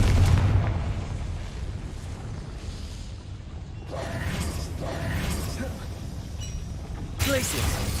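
A Confringo blasting spell in Hogwarts Legacy goes off with a low boom at the start and rolls away. Creaking, grinding mechanical movement and further rumbling thuds follow.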